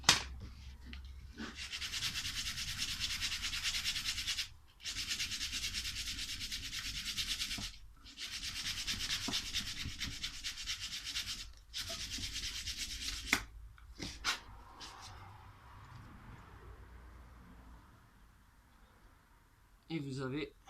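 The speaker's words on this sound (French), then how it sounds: "On va prendre du grain un peu plus gros." Sanding block with coarser-grit sandpaper rubbing across wood, steady rasping strokes in long bursts separated by brief pauses, fairly close, then fading to a few scattered scrapes and a final short rub.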